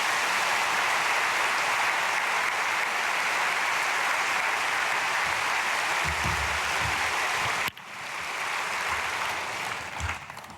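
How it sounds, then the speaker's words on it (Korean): A church congregation applauds to welcome a pastor at an early-morning prayer service: dense, loud, sustained clapping that dips abruptly and then continues, with no voices over it. "목사님 나오실 때 우리 박수로 맞겠습니다"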